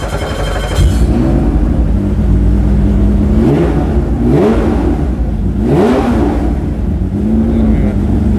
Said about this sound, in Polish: Czy możemy uruchomić e, Porsche?